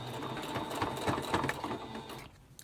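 Close sewing machine stitching a pleated fabric mask with a filter pocket, a rapid steady mechanical chatter that runs for about two seconds and then cuts off.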